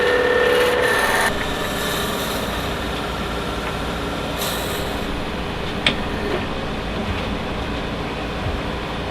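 Steady grinding rasp of a drill bit with a depth stop boring into wood for a game call, continuous and close, with a brief sharp click partway through.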